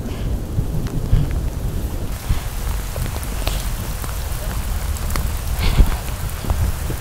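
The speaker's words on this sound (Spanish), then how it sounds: "la tormenta de rayos está muy fuerte" Heavy rain pours steadily among trees during a strong thunderstorm, with a constant dense roar and a few sharper rumbles and cracks of thunder rising above it, loud and close throughout with no voices.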